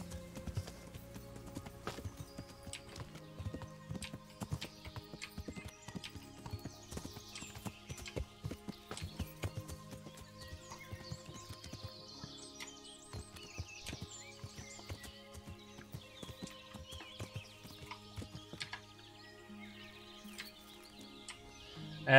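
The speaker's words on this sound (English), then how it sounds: "It was a pretty damn good horse." Steady clip-clop of horse hooves trotting at an even rhythm in a video game, with faint bird chirps and a soft musical backdrop, moderately close.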